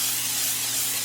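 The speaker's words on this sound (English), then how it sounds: "Going to do it one more time. Olive oil spray." Olive oil spray hisses from a can onto Brussels sprouts, a steady, close, continuous spray lasting about a second with no pauses.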